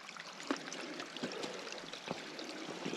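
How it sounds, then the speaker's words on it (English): Small stream trickling over rocks along the Appalachian Trail in cold weather near the North Carolina line, a soft steady wash of running water heard close, with a few faint knocks, continuous throughout. "A little stream trickling through there somewhere."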